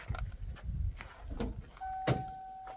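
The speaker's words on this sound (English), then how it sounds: "The door's dinging." A car's open-door warning chime sounds as a steady electronic tone and holds amid scattered nearby clunks and rustling.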